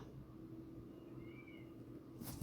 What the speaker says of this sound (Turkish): Şu kediyi bir yere koyacağım.